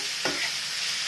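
A short scrape of potatoes being stirred in a pan as they fry with ajwain, steady sizzling of hot oil underneath, close and fairly quiet.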